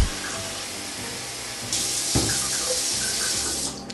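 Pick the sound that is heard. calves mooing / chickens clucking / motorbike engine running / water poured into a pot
water poured into a pot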